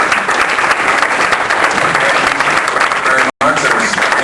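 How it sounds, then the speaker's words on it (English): An audience at a business talk breaks into steady, dense applause that fills the whole stretch, loud and close, briefly cut out near the end. "Let's give David a round of applause."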